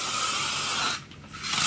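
Hairspray hisses from a can onto freshly curled hair, close and loud. One long burst is followed by a short pause, then a second spray begins.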